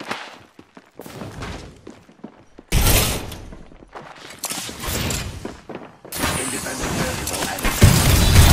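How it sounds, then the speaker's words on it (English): A player's shield recharges in Apex Legends with long, loud bursts of mechanical whirring and crackling charge noise. The effect swells up twice after a stretch of quieter clicks and clatter. "Recharging my shield."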